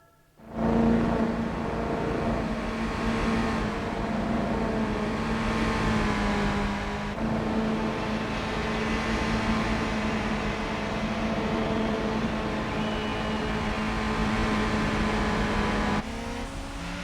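Race cars in Gran Turismo 4 roar into life at the start, with a dense, sustained engine drone and shifting pitch lasting several seconds before easing slightly near the end, with no voices over it.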